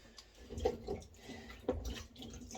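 Faint water sloshing and splashing in a bowl of cold water as vegetables are rinsed, with a few soft splashes spread through a quiet kitchen.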